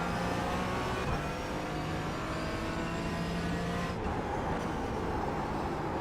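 LMP3 prototype race cars in iRacing, a steady broadband engine drone running throughout with a slight shift near the four-second mark, no distinct single pass-by standing out.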